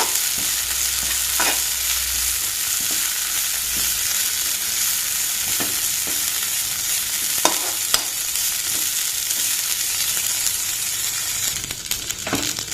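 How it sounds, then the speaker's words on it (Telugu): Tender tamarind leaves fry in a pan for a chutney, a steady close sizzle with occasional scraping stir clicks and no talk. "ఇక్కడ మన చింత చిగురు వేగిపోయింది కదండి"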